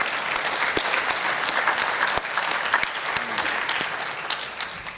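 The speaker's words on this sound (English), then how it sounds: "Let's have a round of applause for our distinguished panelists." Audience applause closing a trade conference panel session on least developed countries, steady dense clapping throughout with a few sharper individual claps standing out.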